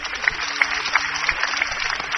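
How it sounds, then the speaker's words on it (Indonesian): A church congregation claps together in a steady, dense wash of applause that fills the room evenly for a couple of seconds, with no one speaking over it. "Tepuk tangan, saudara."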